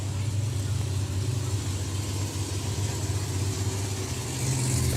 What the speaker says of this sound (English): Very distinctive sound of the supercharger on the Nickman's car.